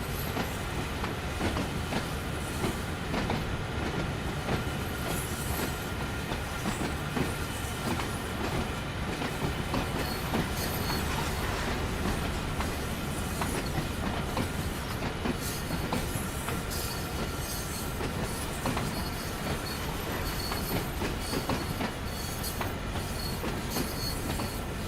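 A train in the Train Sim World game, based on the DB BR 155 electric locomotive in a fictional livery, rolls along with continuous clickety-clack of wheels on rails and faint squeals, steady and fairly quiet throughout.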